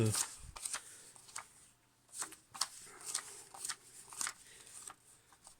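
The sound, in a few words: searching through game cards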